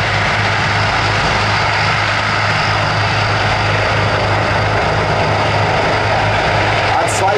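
Loud, continuous rotor and engine roar as four military LUH helicopters land behind a Transall transport aircraft at an air show, steady and dense throughout.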